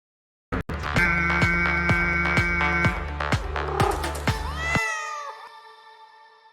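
Cat meows set to a steady throbbing beat, played back from a Cat Jam video: repeated pitched meowing calls over a pulsing electronic rhythm, loud and close, ending in a longer drawn-out meow that fades.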